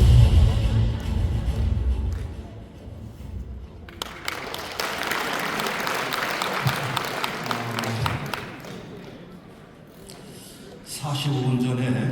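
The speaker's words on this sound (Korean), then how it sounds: "여러분 큰 박수 주시죠" Applause from a book-concert audience in a Daejeon Convention Center ballroom for the head monk of a temple, a long stretch of dense clapping that swells, dips briefly, then rises again near the end, with some voices.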